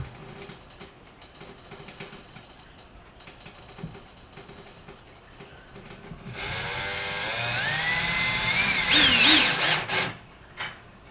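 A power drill drives a screw through a mini blind mounting bracket into a window frame. The motor winds up loudly and steadily for about four seconds, rises in pitch and cuts off, after a stretch of quiet handling noise.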